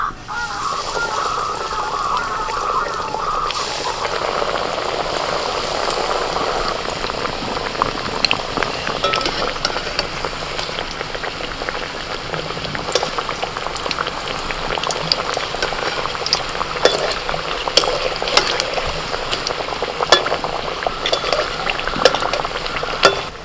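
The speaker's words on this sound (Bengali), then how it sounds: "এই তেল গরম হয়ে গেছে এবার একে একে ছেড়ে দিই" Prawn and banana-flower chops frying in a pan of hot oil, a steady close bubbling sizzle that carries on throughout with small crackles and pops, no voices.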